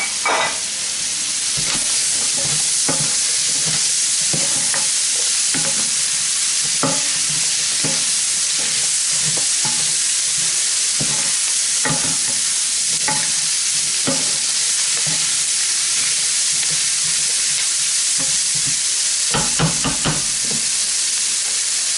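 Carrot and celery sizzle loudly in a hot pan for curry cauliflower, a dense, continuous frying hiss broken by regular stirring scrapes and taps, close and with no talking.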